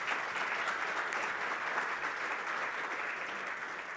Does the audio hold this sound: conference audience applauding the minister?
yes